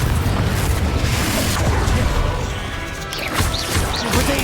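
Confringo fire spell blasting during a boss fight in Hogwarts Legacy, a loud, dense crashing roar that stays continuous throughout with booming impacts and crackling bursts, no talk heard.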